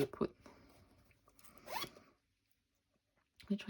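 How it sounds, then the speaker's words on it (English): A zipper on a fabric pouch is drawn open in a quick rasping pull, close and fairly quiet, amid light handling noises, followed by a pause of silence and a brief rustle at the end. "Now I'll have to be careful with the zipper"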